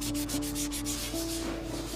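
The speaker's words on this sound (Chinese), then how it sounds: "打磨用的是干草" Dry grass rubs against a wooden disc, a close, continuous scratchy sanding that varies slightly in stroke without pause for two seconds.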